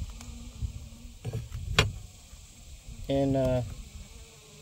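Honey bees buzz around an open hive during a summer inspection, a steady droning hum with individual bees zipping close past in loud, tonal swells, and a person briefly speaking.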